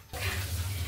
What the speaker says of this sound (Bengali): এখন সব সবজিগুলো ধুইতাছি।